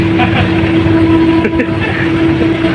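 A small ship's main engine runs steadily at about 1050 RPM with an overheating oil temperature, a loud, constant droning hum with a strong tonal line, and voices talking over it.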